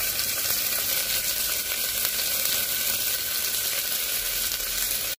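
Peas and onions frying together in a pan for methi pulao, a loud continuous close sizzle with a dense even crackle and no voices.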